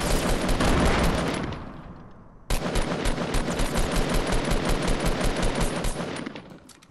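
Rapid automatic gunfire in a Fortnite battle royale match, loud sustained bursts that fade briefly, then resume as a steady rattling volley of closely spaced shots.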